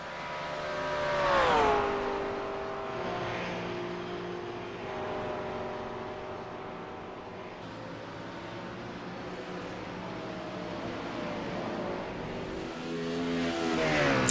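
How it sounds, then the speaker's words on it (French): Race cars in a 2016 French GT3 Cup championship round, a McLaren among them, roar steadily with high revving engines. One car sweeps past with a falling engine note, and another engine swells at the end. "Ici, c'est Cyril Thomas avec la McLaren."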